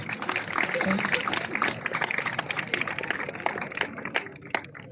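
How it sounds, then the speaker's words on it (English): Students at a school felicitation ceremony clap in a dense round of applause, close and fairly loud, with sharp individual claps standing out as it thins toward the end. "I request all the students to give a round of applause."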